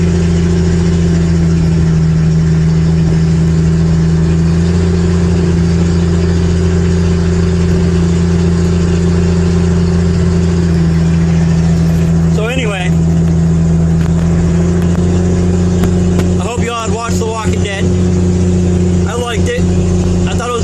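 A Jeep engine running while driving, a loud steady low drone throughout with someone talking over it.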